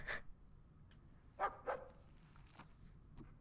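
In the video game Uncharted 4, a small dog yaps several times: a bark at the start, then two quick barks in a row and a fainter one later. Each is moderately close, with no talking over them.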